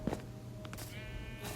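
Sheep bleat in the Minecraft video game, a couple of short wavering calls heard faintly over low steady background noise.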